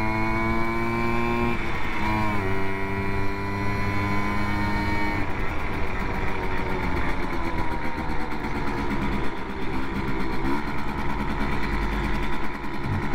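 A Simson S51 Enduro moped engine runs steadily while riding, the two-stroke note shifting pitch as it revs up and settles, loud and close throughout.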